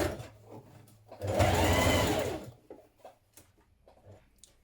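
A domestic sewing machine stitching a seam on a child's jumpsuit runs in one loud burst of about a second and a half, with softer clicks and handling before and after.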